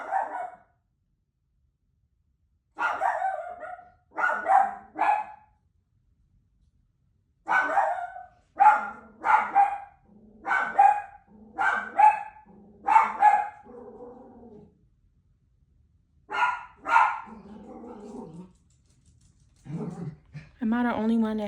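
A dog barks repeatedly in a home, in bursts of two to five sharp barks separated by pauses, close and fairly loud, with a few whimpering yips near the end.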